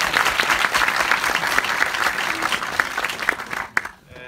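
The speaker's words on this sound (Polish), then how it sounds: "Jeszcze raz oklaski dla tych wymienionych" Cinema audience applauding at a film premiere screening, a dense, steady clapping that fills the room for about four seconds before tapering off with a few last claps.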